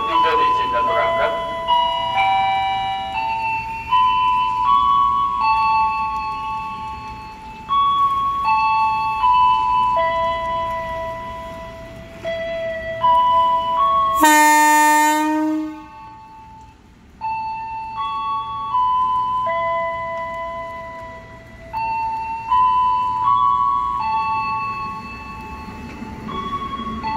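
A KRL commuter train departs Bogor station, with a loud melodic platform chime playing throughout and a sharp, brief horn-like blast midway, while people talk and station announcements run underneath.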